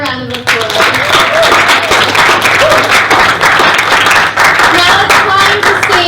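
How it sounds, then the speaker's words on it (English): A debate audience gives a loud, close round of applause, dense clapping from many hands holding steady throughout. "Let's give them another round of applause."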